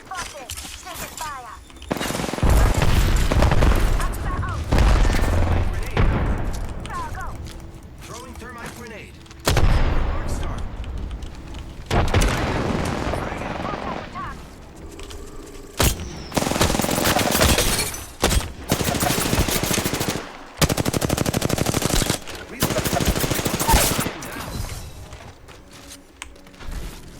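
Bursts of gunfire in the battle royale game Apex Legends, loud rapid volleys and separate shots repeating across the whole stretch, with short pauses between engagements.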